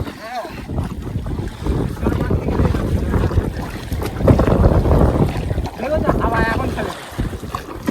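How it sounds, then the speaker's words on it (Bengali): A small wooden dinghy out netting fish in the Sundarbans, its hull knocking and slapping on the water amid wind noise, with voices heard over it. "তলা বাজছে, নৌকার তলা।"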